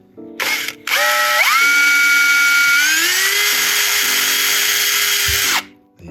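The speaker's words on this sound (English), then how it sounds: "Start by drilling a hole in one end, not all the way through, but just in one end of the clothespin." A drill bores a hole into one end of a clothespin: a short burst, a pause, then a loud, close, rising whine that runs steadily for several seconds before stopping abruptly.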